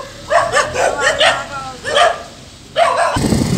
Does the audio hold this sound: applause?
no